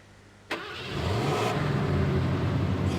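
An old truck engine in the off-road driving game Mudrunner: Spintires starts up abruptly and rises into a loud, rough, steady rev, close and alone with no talk.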